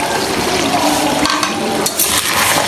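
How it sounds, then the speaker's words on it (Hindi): Cumin, dried coriander and green chillies sizzle and crackle in hot oil for beef karahi, loud and close, with stirring under the steady frying. "इसको अच्छी तरह से भून लेंगे।"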